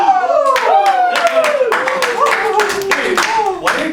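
Students in a classroom clap in a quick burst of sharp hand claps that runs under steady nearby talking.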